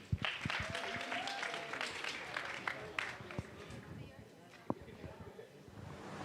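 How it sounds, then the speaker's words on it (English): Thin, scattered clapping from an audience at an evening Shri Guru Puja program in Canajoharie, quiet and uneven, with a few sharper claps and voices murmuring underneath. "So let's give a round of applause for that."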